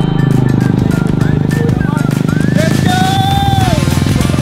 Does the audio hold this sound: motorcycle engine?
yes